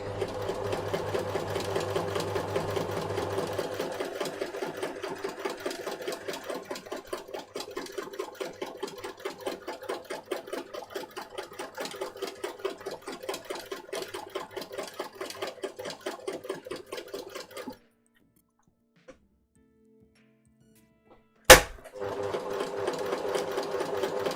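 A sewing machine stitches a buttonhole on a child's Gryffindor jacket, whirring in a fast, steady buzz for a long stretch, then falling silent, a sharp click, and the stitching starting up again close by.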